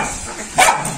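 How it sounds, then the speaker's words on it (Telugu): A single short bark from a two-year-old police dog, close and fairly loud over a light background hiss. "ఇది వచ్చేసి పోలీస్ డాగ్ అనమాట"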